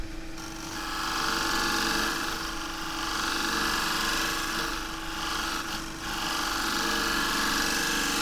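A shear scraper working a wavy casuarina wood bowl spinning on a lathe, a steady abrasive scraping hiss over the motor's hum, swelling and easing in long passes.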